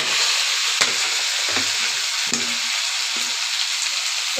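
Cumin, bay leaf and ginger-chilli paste fry in hot oil, a loud, steady close sizzle broken by a few soft stirring knocks against the pan.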